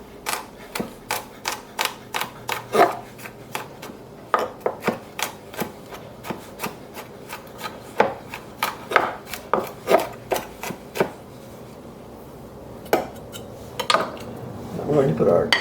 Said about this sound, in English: I'm just going to chop these up